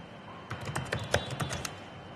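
Quick, light keystrokes on a computer keyboard as a location is typed into a Google Maps search box, about eight close taps in a short burst, with no talking.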